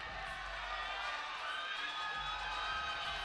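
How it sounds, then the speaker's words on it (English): A hometown crowd at a combat sports fight night cheers and murmurs continuously, a broad steady roar of many voices with scattered shouts and whoops, carrying on without a break. "You hear the hometown crowd"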